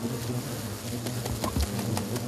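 Asian giant hornets swarm around their nest during removal, a close, continuous low insect drone with faint buzzing passes, nearly constant throughout.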